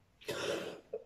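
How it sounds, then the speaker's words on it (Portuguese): A single short, raspy cough up close, with a faint catch of breath at the end. "Que tosse é essa"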